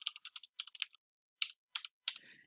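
Typing on a computer keyboard, with quick bursts of light, crisp key clicks, a short pause, then a few separate taps, close and quiet with no voices.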